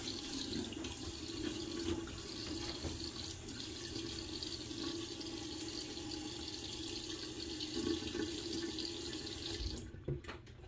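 Tap water runs steadily into a sink while the face is wetted for a wet shave, a close, constant splashing flow with small drips, lasting until it cuts off near the end.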